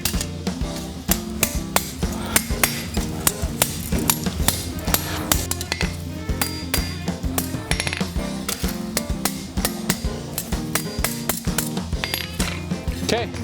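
A hammer forges a steel vine on an anvil, ringing in a fast, steady rhythm of sharp metallic blows close by throughout.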